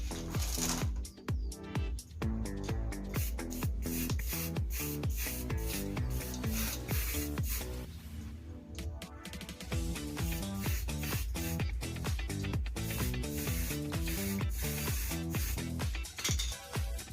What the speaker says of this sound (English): I'll give it a quick spray job